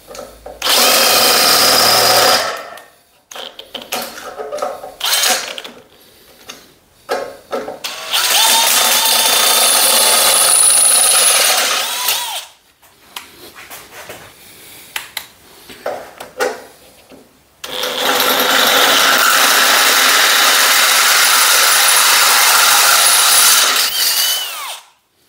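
A power drill bores holes for a splash shield under an ArcDroid on a Texas Metal Works water table, in three loud, sustained bursts of whining drilling separated by brief pauses.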